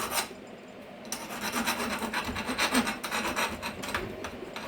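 Metal fabrication parts being deburred with a hand file, steady rasping strokes scraping off sharp edges, close and fairly loud, repeated rhythmically without talk.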